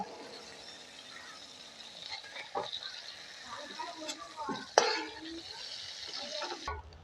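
Prawns fry in oil in a pan, a quiet sizzle under intermittent stirring clatter and scraping, while a voice talks over the cooking.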